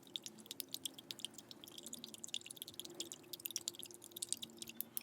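Mouthwash slime being mixed in a container gives quiet wet clicks and squishes in a rapid irregular patter, faint and close, with no talking.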